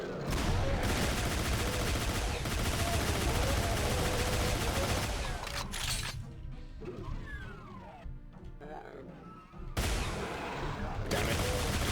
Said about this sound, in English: Let's go back to the plasma rifle.